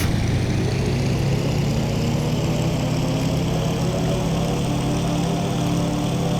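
A WWII fighter aircraft's piston engine roars during takeoff in the IL-2 1946 flight sim, on a Midway campaign mission. A loud, steady, droning hum continues without a break from start to finish, with no voices over it.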